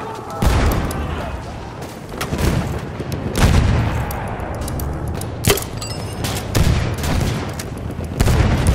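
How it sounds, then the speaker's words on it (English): Battlefield 1 battle din of rapid gunfire, booms and cracks from a machine gun and other weapons, dense and loud throughout, with brief in-game voice callouts. "Hostile machine gun."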